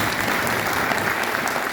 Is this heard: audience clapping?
yes